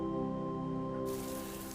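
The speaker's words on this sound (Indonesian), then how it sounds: "Ya ampun, deras banget lagi hujannya." Heavy rain drumming steadily on a car at night, a dense continuous wash of drops over a low steady hum, fairly loud and close, with no voices.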